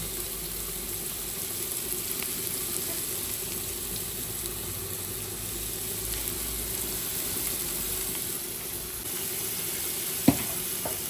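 Sliced onions sizzle with salt in a hot pan for a chicken samosa filling, a steady close crackling hiss that runs without a break, with one brief clink near the end.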